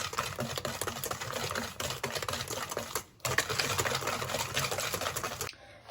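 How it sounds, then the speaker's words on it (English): A sugar mixture for Turkish Revani semolina cake is whisked by hand, giving a rapid, continuous rhythmic clatter of whisk against bowl, close and steady, with a brief pause partway through. "So I whisked it by hand for about like 15 minutes about."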